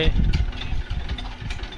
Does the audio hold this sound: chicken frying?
no